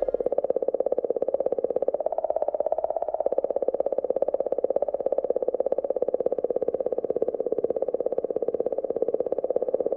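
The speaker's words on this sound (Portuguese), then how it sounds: "este é o som da interação do vento solar com a atmosfera do cometa" Sonified recording of the solar wind meeting the atmosphere of comet 67P, a steady droning hum with a fast rapid pulsing texture, continuous and even in level throughout.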